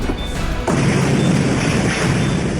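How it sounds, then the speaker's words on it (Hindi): A sudden loud blast from a Cybertruck explosion in America cuts in after a quiet start, followed by a heavy rumbling roar that stays strong to the end. "एक साइबर ट्रक में जोरदार धमाका हुआ"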